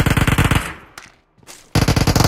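Close, loud machine-gun bursts in the BGMI battle royale mobile game, a rapid string of shots, a short pause with scattered echoing reports, then another fast burst.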